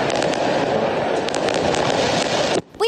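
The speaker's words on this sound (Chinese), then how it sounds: "外头突然传来爆炸声响，打开窗户，烟火不断" Fireworks burst late at night near a prison building, a dense loud stream of crackling pops and bangs that runs continuously before cutting off suddenly.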